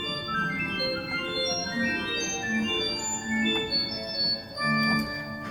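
A large pipe organ in Austria, which was once the country's largest, plays a bright 1-foot stop combined with an 8-foot stop. Shrill high tones run in rising lines over a sustained lower voice, filling a reverberant room with no talking.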